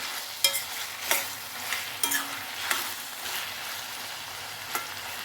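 Eggplant and mango curry cooking in oil in a pan, with a soft steady sizzle and a few sharp scraping stirs of a spoon against the pan, heard close up with no talking.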